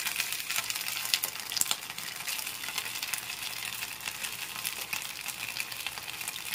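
Chicken reshmi kebab fries in a pan, giving a steady, dense sizzle and crackle with scattered sharper pops that runs without a break, moderately loud and close, with no voices.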